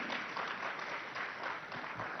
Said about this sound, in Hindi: जोरदार तालियों से उनका भी स्वागत कीजिए।